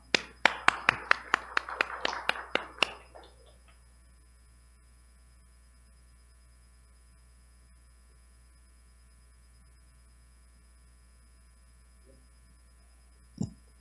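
A short burst of scattered clapping greets a speaker at a Korean memorial gathering for novelist Park Sang-ryung. About a dozen sharp claps run over roughly three seconds, then fade into near silence.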